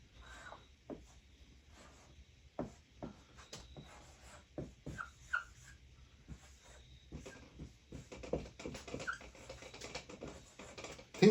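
Handwriting with a pen on a surface, heard as scattered soft scratches and taps in short strokes with pauses between them, close and fairly quiet in an otherwise still room.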